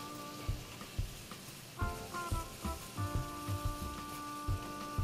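Browning meat sizzling in a pan: faint, steady crackle with scattered pops and a thin ringing tone, quiet and close, no talking.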